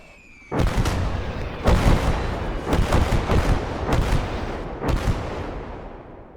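Artillery shells hammering down in a Gates of Hell Ostfront battle, a run of heavy booming blasts about one second apart, each rolling out into a long rumbling decay, loud and close.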